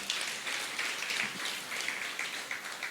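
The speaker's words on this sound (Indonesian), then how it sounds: "Berikan tepuk tangan dulu bagi Tuhan Yesus, saudara." A church congregation claps during a sermon, a soft, even wash of many hands applauding, fairly quiet and sustained throughout with slight swells.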